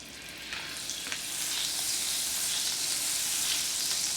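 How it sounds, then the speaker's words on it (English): Butter sizzles steadily in a hot pan while collard greens are cooked, a close, continuous broadband hiss that builds slightly and holds, with no talking. "I'm going to put butter in here."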